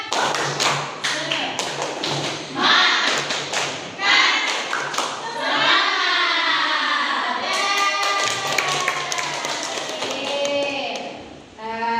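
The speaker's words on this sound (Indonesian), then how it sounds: "Tepuk semangat." Students in an Islamic school Qur'an-Hadith class perform the tepuk semangat rhythmic clapping routine, a loud, patterned series of quick, close claps and taps, while voices chant along between beats.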